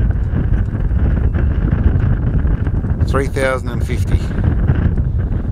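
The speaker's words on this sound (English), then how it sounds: "There's a fair old bit of wind here." Steady wind rushes loudly and continuously past the microphone at an outdoor shooting range, a broad low roar lasting throughout, with a voice talking briefly over it partway through.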